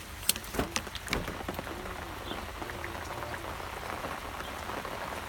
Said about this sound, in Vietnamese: trời lại đổ cơn mưa